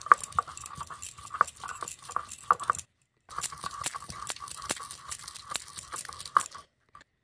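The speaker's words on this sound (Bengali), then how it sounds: "শিলনোড়ায় বেটে নিচ্ছি" Spices being ground by hand on a Bengali shil-nora stone slab with a stone muller, heard as repeated close scraping and crunching strokes in a steady back-and-forth rhythm, with a short pause midway.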